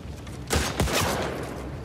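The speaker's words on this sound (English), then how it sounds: "Who else is shooting me?" A short volley of gunfire in The Last of Us Part II, with two or three sharp loud bursts in quick succession followed by a lingering rumbling tail.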